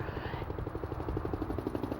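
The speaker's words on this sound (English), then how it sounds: "and the noise of a helicopter" A helicopter flies overhead near Tucson, its rotor making a steady, rhythmic chopping beat over a continuous low drone, fairly faint and distant with no voices.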